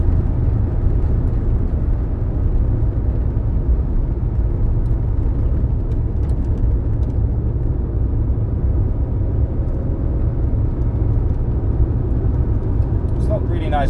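A 1997 Renault Twingo 1.2 driving on an open road at speed, with steady engine drone, tire roar and wind rumble continuing evenly throughout and no talking.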